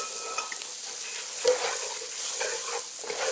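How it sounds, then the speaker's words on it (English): Garlic sweating in a pan for wild turkey Tex-Mex soup, with onions already in: a steady, moderate sizzle close by, with a few soft stirring scrapes and clinks and no talking. "I've got my garlic. I'm going to add that in. Sweat that for a little bit."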